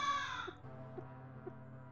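Crow cawing in the video game LISA: the Blessing, one harsh caw at the start followed by a quieter game-sound tone with soft rhythmic blips.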